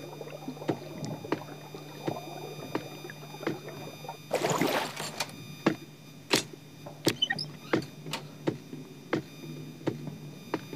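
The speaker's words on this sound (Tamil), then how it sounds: "ஏதோ ஒரு சவுண்டு கேட்டுச்சாமா, வாட்டர் சவுண்டு" Water in the Unlucky Postman video game makes faint lapping and splashing sounds, with soft repeated sloshes and a brief louder rush of water midway, heard alone without talk.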